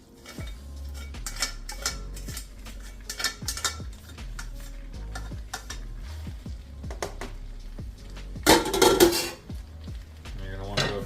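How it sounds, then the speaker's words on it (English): Fettuccine being added to a pan and tossed with tongs through creamy chicken Alfredo sauce, with steady metallic tong clicks and scrapes against the pan, soft squishy stirring and a louder clattering burst near the end. "at this point we're going to add in our pasta"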